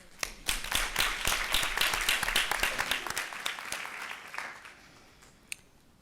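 Audience applause for teachers at a school governing board meeting, a modest group of distinct hand claps, strongest at first then thinning out, with a last stray clap near the end.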